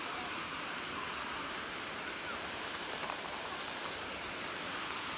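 A waterfall pours in a forested spot, heard as a constant broadband roar of falling water, steady and fairly distant, with no voices.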